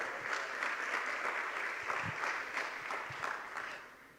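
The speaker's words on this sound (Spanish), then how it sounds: "un aplauso para ellos" A congregation at a church service claps in a short, even burst of applause. It holds steady for about four seconds and then starts to fade.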